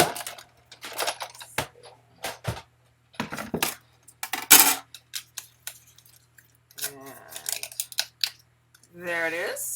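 A Big Shot die-cutting machine is cranked to cut a Christmas card: close, irregular clicks and scraping bursts over a faint steady hum, ending with a few squeaky, voice-like tones.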